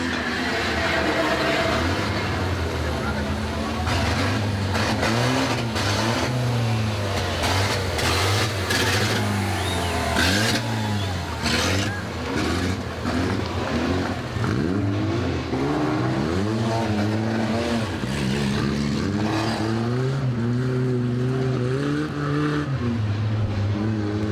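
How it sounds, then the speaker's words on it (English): Bomber stock cars in a nudge and spin heat at Warton Stock Car Club, engines revving and droning continuously with rising and falling pitch as they race, captured on old VHS with a constant loud mix. "So not many cars left running in this first heat of the bombers, the nudge and spin class."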